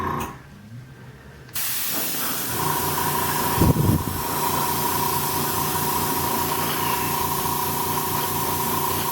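A steady, loud hiss of spray paint laying a base coat across the legs, arms and face of a Robby the Robot figure, starting abruptly and holding on without pause, moving in a circular pattern.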